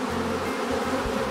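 Honeybees buzz around a hive while a swarm is being caught, a dense, close, continuous hum of many insects at a steady level with no talking.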